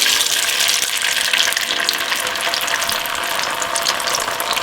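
Corn tortillas dipped in red chile sauce hit hot oil for chicken enchiladas, giving a loud, steady, dense sizzle and crackle of frying that continues without a break.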